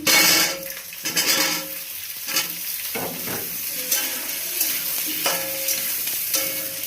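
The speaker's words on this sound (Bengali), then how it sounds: "আলুটা এবার ভেজে নেবো একটুখানি" Potatoes frying in a pan, a loud burst of sizzle at first settling into steady crackling, broken by spatula scrapes and metal clinks against the pan.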